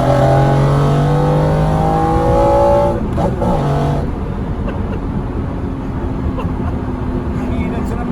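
McLaren F1 road car pulling hard under acceleration, a loud, close engine roar whose rising pitch steps once before settling into a steady rushing drone with road and wind noise.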